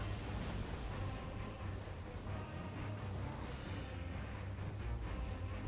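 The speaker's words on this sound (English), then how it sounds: "It's a bit of a bigger explosion than I expected." A large explosion in the video game Elden Ring with the Convergence mod, a dense, sustained roaring blast filling the whole stretch at steady high loudness, with no talk over it.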